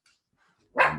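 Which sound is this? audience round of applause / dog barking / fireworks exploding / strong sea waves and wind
dog barking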